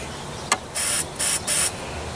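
3M spray adhesive hisses from an aerosol can onto a foam pool noodle in three steady bursts, each under a second, after a brief click, fairly close and with no talk.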